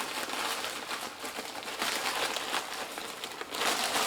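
Crinkly plastic packaging from a crafting haul of woodland scatter crackles and rustles up close as scissors cut it open, in bursts of crinkling with short pauses.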